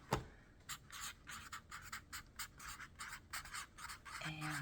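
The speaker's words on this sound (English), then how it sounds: "I am going to write that on my plantogram" Pen writing on a plant label for tomato seeds, a close, quiet series of rhythmic scratchy strokes repeating steadily, with a brief voice at the very end.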